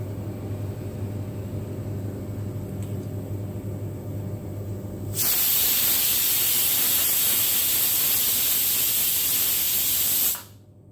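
Steam blasts from a pressure cooker during beef curry cooking, a loud steady hiss that starts suddenly midway, holds for about five seconds and then cuts off, following a low background hum.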